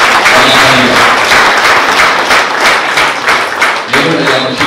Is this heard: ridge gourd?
no